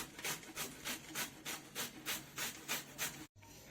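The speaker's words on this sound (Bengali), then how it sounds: "আমার পেঁপে এই যে গ্রেট করা হয়ে গেছে" Raw papaya is grated by hand with a steady, rhythmic rasping of about a dozen even strokes, close and fairly loud, before a short pause near the end.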